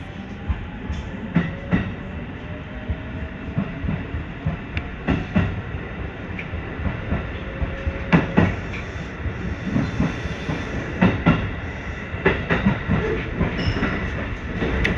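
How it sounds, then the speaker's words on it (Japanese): The first commuter train of the day on Japan's Wada-misaki Line departs and runs along the rails, a continuous rumble with rhythmic clickety-clack wheel beats and occasional faint squeals, steady and fairly close. "本日の始発電車、帝国で発車しました。"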